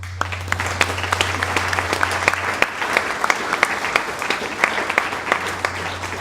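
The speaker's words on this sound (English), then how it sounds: "So if we can give a round of applause for our Marines" A crowd at an Armed Forces Day ceremony applauds the Marines, with crisp individual claps standing out over a steady bed of clapping and a low electrical hum in the first half.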